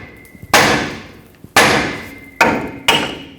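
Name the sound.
hammering a steering knuckle and stud to break it free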